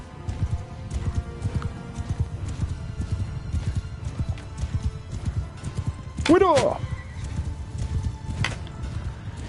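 Horse hooves clip-clop rapidly in a steady galloping rhythm during mounted archery in Mount & Blade 2 Bannerlord, with a horse whinny midway and someone talking and shouting over it.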